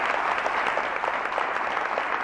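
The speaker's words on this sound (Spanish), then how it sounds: "El aplauso para la Universidad Austral." Studio audience applauding the Universidad Austral on a 1996 Argentine TV program, a steady dense wash of clapping that holds evenly throughout without a break.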